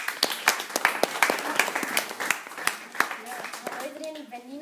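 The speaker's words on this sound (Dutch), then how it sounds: "Nina, een warm applaus voor Nina." A warm round of audience applause greets a young performer about to play songs, sharp claps rising and thinning over several seconds, with a voice speaking near the end.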